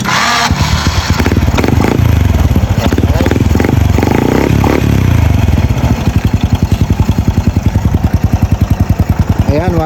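A Honda Wave 100 motorcycle, recently repaired after stalling on the road, runs close by with a loud, rapid engine putter that revs up and then settles into an uneven idle. Someone speaks over part of it.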